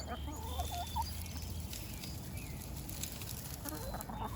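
Hens in a newly built backyard run give soft, quiet clucks and short chirpy calls while scratching around, close but faint against a low outdoor background.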